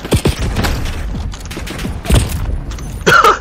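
Gunshots from a stolen gun in a video game, several sharp cracks spread across a few seconds, with a dense burst of fire near the end over busy game noise.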